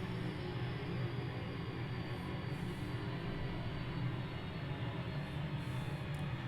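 A light aircraft engine idles in the cockpit during a traffic-pattern flight at KELN, a steady, even drone with a low rumbling core that holds at one level throughout, with no voices.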